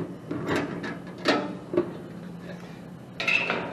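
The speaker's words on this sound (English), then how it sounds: "So I'm going to take this door switch out of the way" Clicks and light plastic-metal clatter as a door safety switch is pulled free from a Goodman 80% gas furnace cabinet in a shop, a few sharp knocks spread over several seconds with quiet handling between.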